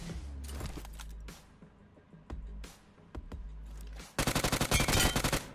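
Gunfire in the mobile shooter BGMI: bursts of automatic fire with sharp single shots, ending in a loud rapid volley, no talk over it.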